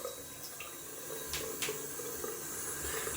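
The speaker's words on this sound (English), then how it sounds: "Just gonna rinse off the sink down here pretty quick." A bathroom tap runs to rinse a sink, a soft continuous water hiss with a couple of faint splashes, quiet and steady throughout.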